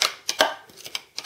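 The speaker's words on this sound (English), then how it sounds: "I'm just gonna see if I can chop it up in here" Food is chopped inside an Express Gourmet As Seen on TV manual chopper, heard as a quick run of close, sharp clacking bursts from the plunger and blades.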